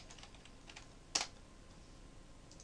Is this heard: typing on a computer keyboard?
yes